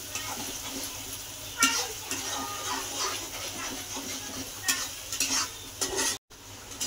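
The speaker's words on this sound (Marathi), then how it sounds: "मिरची, लसूण, कोथिंबीरचं वाटण हे आता आपण यात टाकून घेऊ. आपण याला चांगलं तळून घेऊ या वाटणाला." A paste of chili, garlic, coriander and coconut fries in oil for khar vanga, giving a constant close sizzle with spoon scrapes and stirring bursts, and a brief cut near the end.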